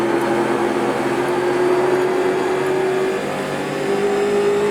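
A stock car engine in the iRacing video game at USA International Speedway, a steady loud drone with a rising tone as it powers out of a corner, continuous throughout with no talk.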